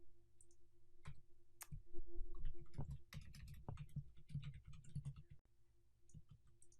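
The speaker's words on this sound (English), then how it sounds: "So again, just typing in my content." Soft, fast clicking of keys on a computer keyboard, irregular bursts of typing close by with a few louder taps and brief pauses.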